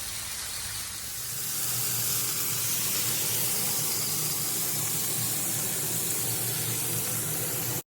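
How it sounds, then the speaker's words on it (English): Bacon sizzles on a Blackstone griddle: a steady, close, bright hiss that swells after the first second and holds evenly, with no voices. "So we got the bacon already on there."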